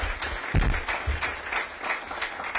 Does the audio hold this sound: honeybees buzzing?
no